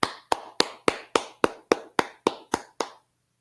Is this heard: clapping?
yes